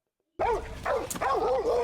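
A dog in an episode of The Last of Us barks and whimpers in a quick burst of yips and whines, loud and close, under an apocalyptic drama scene, with no one talking.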